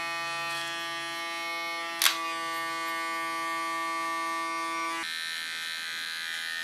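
A small electric hair clipper hums steadily at close range while trimming a short-haircut neckline, a constant buzzing tone that briefly shifts at one point and drops in pitch near the end.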